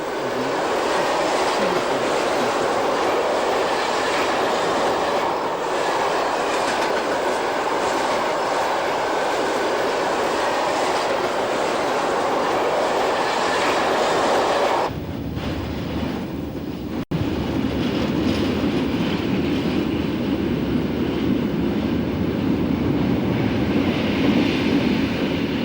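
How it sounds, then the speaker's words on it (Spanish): Swiss Ae 8/14 double electric locomotive hauling a train on the Gotthard line, a steady loud rumble of wheels and running gear that shifts to a harsher, more distant roar partway through, with no voices. "Y aquí la tenemos, la que en su día fue la locomotora más potente del mundo"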